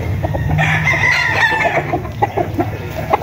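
Roosters at a poultry farm crow loudly and nearby, one long drawn-out call rising over clucking and other fowl noises, with scattered bird sounds continuing after the crow fades.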